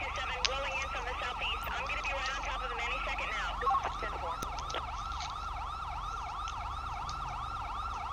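Police sirens in GTA V wail in repeated rising and falling sweeps, fairly close and continuous, with a second siren layered above the first over low road rumble.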